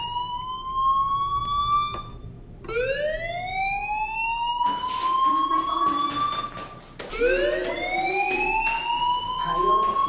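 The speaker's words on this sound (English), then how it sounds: "do you hear that fire alarm?" A fire alarm rings in the Life is Strange video game, a loud whooping electronic tone that sweeps upward in pitch again and again, with a bright harmonic-rich sound that repeats several times over a low background.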